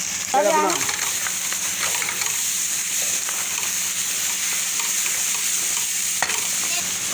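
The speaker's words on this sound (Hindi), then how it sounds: "ये 3 चम्मच मैंने अदरक थूम प्याज के डाल दिए" Ginger, garlic and green chili paste frying with onions in a pan for a chicken dish, a steady close sizzle with stirring scrapes throughout and a brief voice near the start.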